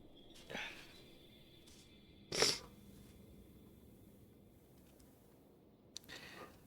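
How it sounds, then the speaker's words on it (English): A single sharp sneeze lands close to a microphone in a quiet room, with a softer breathy burst just before it and faint low background noise throughout. "I'm gonna give up trying to not sneeze while on the mic."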